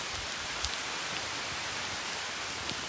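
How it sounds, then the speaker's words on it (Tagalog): Steady heavy rain pours at a resort in Mabitac, Laguna, a dense, even hiss of drops striking surfaces with occasional faint nearer splats, no voices present. "Grabe, lakas ng ulan."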